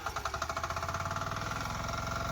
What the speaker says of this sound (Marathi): पॉवर विडर नऊ H P E S P कंपनीचं आहे आणि त्याचं इंजिन जे आहे ते कामा कंपनीचं आहे